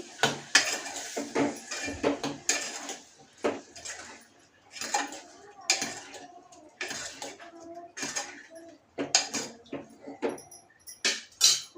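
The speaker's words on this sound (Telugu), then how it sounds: "ఇప్పుడు మనం బాగా మిక్స్ చేసేసేయాలండి" A spoon scrapes and clatters against a pan while ridge gourd curry is stirred, irregular metallic knocks and scraping strokes up close, with light sizzling underneath.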